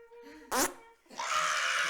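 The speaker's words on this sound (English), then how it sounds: "You made her fart." A short, loud fart-like burst in the middle of a podcast chat, with a child's and an adult's voices talking before and after it.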